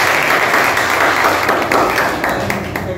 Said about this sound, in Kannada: ಎಲ್ಲರೂ ಒಮ್ಮೆ ಚಪ್ಪಾಳೆ ಹೇಳ್ರಿ